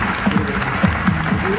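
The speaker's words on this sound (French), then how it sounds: "Stéphanie, on peut l'applaudir très fort, Stéphanie" An audience applauding a prize winner at an awards ceremony, steady clapping with a voice speaking over it.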